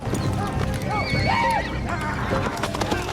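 Horses gallop hard in a chase, with dense, continuous hoofbeats and a loud, rising whinny from one horse partway through, like a busy sound-effect mix.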